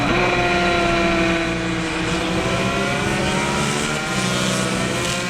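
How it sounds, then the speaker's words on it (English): GP lightweight racing motorcycle at speed during a road race, its engine a loud, steady high-pitched whine that holds strongly throughout with slowly shifting pitch and no talk. "Jordan Reid making a charge now on the GP lightweight bike as the leader in that class"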